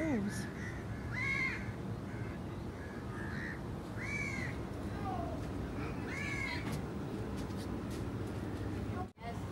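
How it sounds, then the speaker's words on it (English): Crows caw repeatedly at a distance at a beach chalet in Mamzar, Dubai, harsh calls spaced a couple of seconds apart over a steady outdoor background hum. "You can hear a lot of crows."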